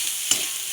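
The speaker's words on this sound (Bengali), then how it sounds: "দেখুন শাকটা আমি কত সুন্দর করে নেড়ে দিচ্ছি, কত সুন্দর করে ভাজছি শাকটা।" Dheki shak greens tossed in a hot pan give a steady soft sizzle with one brief scrape of the spatula partway through.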